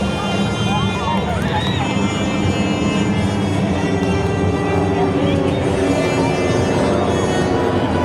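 A loud, steady roar of aerobatic airplane engines at an airshow fills the air, droning continuously with shifting pitch as the aircraft passes.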